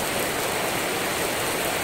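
Steady, dense rain hisses down at a cliff-lined beach in Pacitan, a constant wash of noise with no pauses and no voices.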